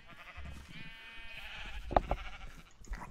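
Sheep bleat in Minecraft, one short bleat rising over steady game ambience and faint background noise, fairly quiet.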